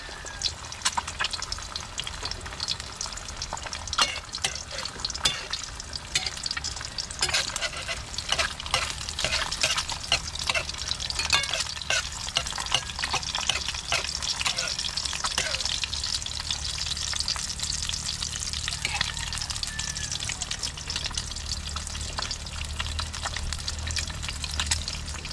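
Sponge gourd slices fry in hot oil in a pan and are stirred, a steady close sizzle with frequent scraping and clicking strokes running throughout, loud and continuous.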